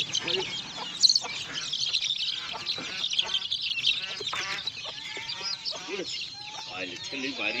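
Village chickens clucking and cheeping in a busy, continuous chorus of short, close calls, with some voices talking faintly underneath.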